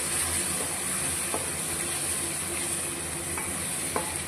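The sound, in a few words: sautéing biryani masala, garam masala and Kashmiri chili powder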